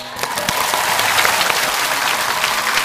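Studio audience at a televised lecture show breaking into full, steady applause, dense and loud for about three seconds, with a faint voice underneath.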